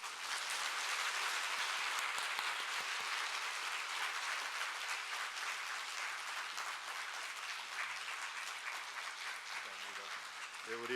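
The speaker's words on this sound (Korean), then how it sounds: "우리 다시 한번 박수하겠습니다" Sustained applause from a church congregation at a special dawn prayer meeting fills the space, dense clapping continuing for several seconds and thinning toward the end as a voice begins to speak.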